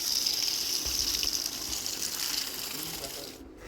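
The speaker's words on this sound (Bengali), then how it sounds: "ভালো করে পাতাগুলোকে আমি ধুয়ে নেব।" Water running from a tap over cut taro leaves as they are washed, a steady close gush that fills the whole stretch and cuts off abruptly near the end.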